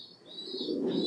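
A female fancy pigeon, newly acquired and kept at a pigeon breeder's loft, gives a soft, low, rolling coo rising in the second half, close and gentle with faint higher chirps from other birds behind.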